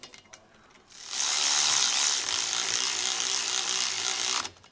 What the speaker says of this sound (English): instead of using my electric ratchet, I'm going to be using a torque wrench